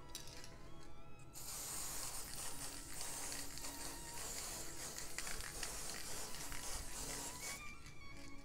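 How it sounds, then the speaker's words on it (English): Teflon spray is applied to the bowl of a calfskin-headed timpani, a steady hissing spray running for several seconds amid light rattling, close and fairly quiet. "Apply your Teflon spray."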